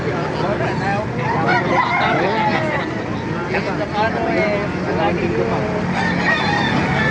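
Several roosters crow and chickens cluck at a busy, crowded chicken market in Baliuag, Bulacan, Philippines, with people talking throughout over a steady background din.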